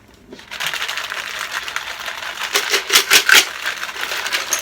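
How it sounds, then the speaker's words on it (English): Ice cubes poured into a cocktail glass while a Blue Hawaii is being made: a fast, dense run of clinking rattles that swells and peaks near the end, heard close and without speech. "Take that glass and fill it with ice, please."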